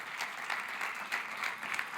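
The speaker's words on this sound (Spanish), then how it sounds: "Un aplauso acá a estos 3," A church congregation gives brief, moderately loud applause, an even wash of many hands clapping with slight swells.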